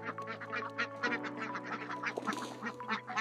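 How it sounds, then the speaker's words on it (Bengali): Ducks quack in a rapid, overlapping chorus as they crowd in to eat grower feed, loud and close, with a low steady hum beneath. "দেখুন, ফিডটা দিতেই হাঁসগুলো ঝাঁপিয়ে খেতে আসে"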